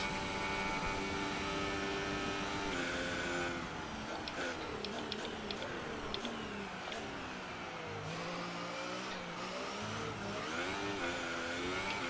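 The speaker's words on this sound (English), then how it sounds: "Lots of wheel spin coming out of that hairpin." Racing game F1 2019 car with wheel spin out of a hairpin at the German GP: a steady, loud engine whine with shifting pitch sweeps as the tyres spin and the car accelerates, continuous throughout with no talk.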